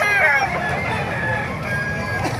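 Fighting roosters crow loudly up close at a poultry spot in Calumpit, Bulacan, one long cock-a-doodle-doo after another, over a busy background of clucking birds and faint crowd murmur.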